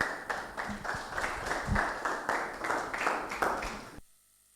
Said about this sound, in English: A round of applause for that group as well.